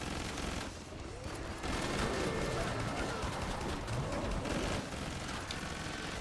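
Rapid gunfire from the Killing Floor 2 shooter game rattles in dense volleys with machine-gun bursts, loud and continuous, while players talk over it.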